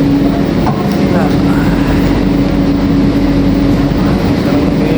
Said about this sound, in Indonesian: sekarang ini kita ada di dalam LRT